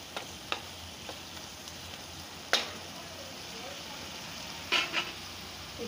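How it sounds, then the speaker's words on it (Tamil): Tomatoes being stirred into pav bhaji masala frying in a pan, a faint steady sizzle with a few soft scrapes and clinks of the spoon against the pan. "இந்த 2 தக்காளி இதில் போட்டு இதுவும் அதுமாதிரி நல்லா அதோட கொஞ்சம் நல்லா மிக்ஸ் ஆகி வரணும்"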